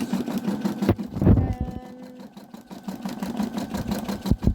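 A sewing machine stitching a blanket in a home sewing room, a burst of rapid mechanical whirring starting after a few clunks and running about a second, with household rustles and knocks around it.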